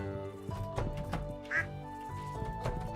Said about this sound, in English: Hey, duck. Who's your other duck friend?